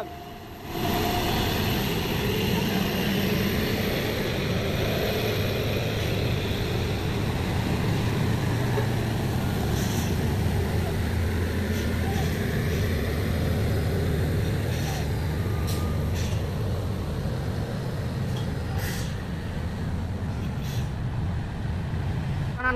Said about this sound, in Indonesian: bersamaan dengan truk trailer Mercy.